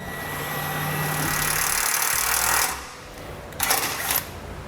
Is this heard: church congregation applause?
no